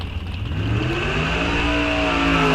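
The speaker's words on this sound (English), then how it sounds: "his dragster in the right lane" A dragster at a bracket drag race at Rock Falls Raceway revs at the starting line, engine pitch climbing steadily as it builds, loud and close with no talk.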